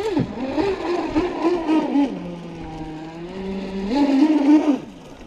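A Kyosho Wave Chopper 3.0 RC boat with an upgraded brushless motor whines at high pitch, rising and dipping through two throttle surges, then settles to a lower steady tone.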